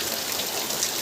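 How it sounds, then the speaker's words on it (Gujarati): Heavy rain pours down steadily at a farm, a loud dense hiss of falling water that fills the whole moment without letting up. "કેટલો તો વરસાદ ખરો"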